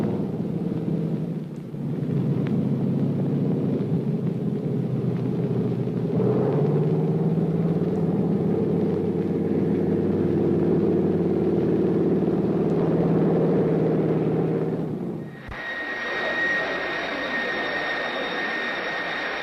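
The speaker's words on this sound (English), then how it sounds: "This young man, Bayena Gulilat, is mastering the rudiments of flight at a Washington flying school, studying to be a commercial pilot" Airplane engine at a Washington flying school, droning in a loud, steady roar for about fifteen seconds before shifting to a thinner, higher whine; no voices.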